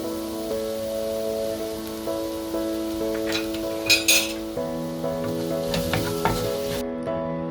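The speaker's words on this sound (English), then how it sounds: "Mix everything well." Pumpkin soup ingredients are stirred in a pot, with light utensil clinks and scrapes over a soft cooking sizzle and a steady background hum. No voices are heard.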